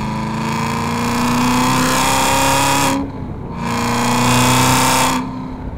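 A 1000 hp Hennessey Cadillac with a six-speed manual accelerates hard from inside the cabin, a loud steady engine drone broken by two quick no-lift shifts, each a brief dip before the pull resumes.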